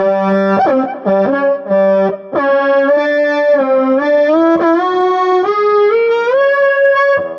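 A bright synthesizer-like lead from a guitar amplifier's synth preset plays a sequence of single sustained notes with gliding pitch, clean and loud, no voices.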